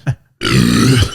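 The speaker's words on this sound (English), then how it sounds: "If you could only hear how crisp that burp sounds through these earphones" One loud, close, drawn-out burp, deep and rattling, follows a drinking contest on a podcast, preceded by a short vocal sound.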